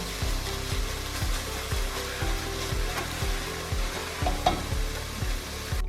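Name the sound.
onions frying in a pan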